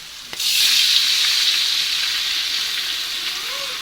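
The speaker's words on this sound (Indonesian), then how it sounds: "Langsung aja di sini saya mau menambahkan air." Water poured into spice paste frying in a pan sets off a loud, steady sizzle that flares suddenly and keeps hissing close by, with no talking.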